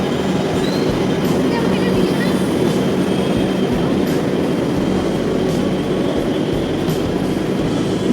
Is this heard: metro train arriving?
yes